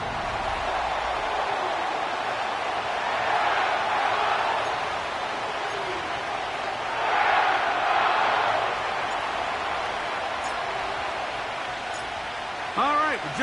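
Stadium crowd roaring in an EA Sports NFL football video game, a steady broadband cheer that swells twice and runs continuously beneath a commentator's voice.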